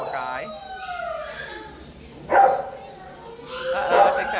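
A dog barks and yips in an animal shelter kennel, a few close, sharp barks mixed with whimpering, with a person's voice and other noise in the background.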